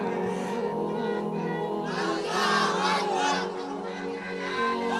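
Married men in a large gathering chant Allahu Akbar together in a loud, sustained shout that swells in the middle and echoes across a crowded open space.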